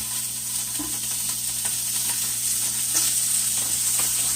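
Hog jowls fry in a pan like bacon, giving a steady, close crackling sizzle with scattered pops throughout and no voices.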